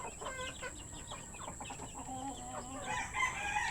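Black Ayam chickens and chicks on a farm, a busy chorus of clucks, chirps and a rooster-like call close by, continuous over light background noise.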